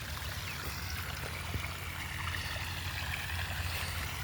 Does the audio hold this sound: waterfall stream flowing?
yes